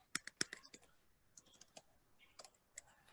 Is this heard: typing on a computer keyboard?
yes